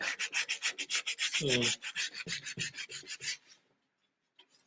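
Sandpaper rubbing against a sculpture, heard as about fifteen quick, even rasping strokes at close range. The strokes stop for a moment partway through when a brief voice breaks in, then resume and end, leaving near silence.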